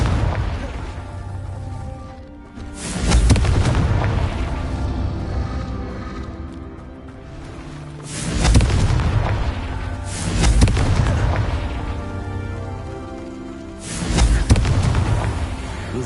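Confringo fire spell blasts in Hogwarts Legacy, a series of four loud booming explosions spaced a few seconds apart, each with a sharp attack and rumbling decay over continuous game ambience.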